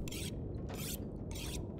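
Rhythmic rasping of an axe blade drawn across a whetstone in The Long Dark, three even strokes repeating over a constant low ambient rumble, with no voices.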